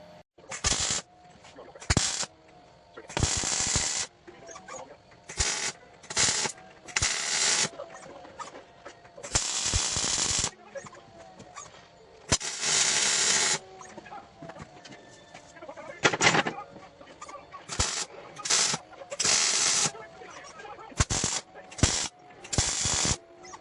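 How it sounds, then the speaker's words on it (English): MIG welding on steel square tubing, a series of short crackling weld bursts of varying length separated by brief silences, close and fairly loud. "So let's get that welded up right quick."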